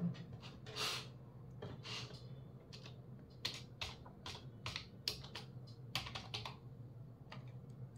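Fingers type a password on a computer keyboard in quick, uneven bursts of light, close-up clicks against a quiet background.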